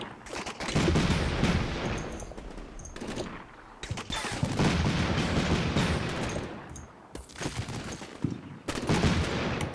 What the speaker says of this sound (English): his friends over here are getting toasted by Mark 19 and mortar fire